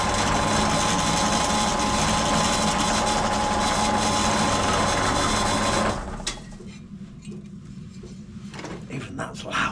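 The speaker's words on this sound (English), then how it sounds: "Got it all marked out for drilling, so I'm going to get the holes in there." A power drill bores pilot holes in a motorcycle number plate for an XT660, a loud continuous whine for about six seconds that cuts off abruptly, followed by quieter handling clatter.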